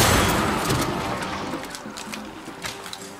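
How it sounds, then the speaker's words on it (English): Gunfire in the Resident Evil 5 video game, a loud burst of rapid shots that trails off into scattered sharp cracks over a noisy game background, with no talking. "can hear gunfire."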